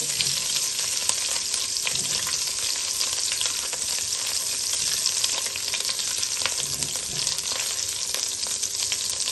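Egg fried rice ingredients fry in a hot pan, a constant loud sizzle with occasional stirring scrapes, close and with no voices.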